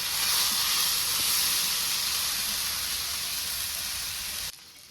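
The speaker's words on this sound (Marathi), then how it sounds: "तर बघा दोन्ही साईडनं छान असा आपला मासा तळून झालेला आहे" A whole fish coated in green masala fries in hot oil with a loud, even, close sizzling hiss that cuts off abruptly near the end.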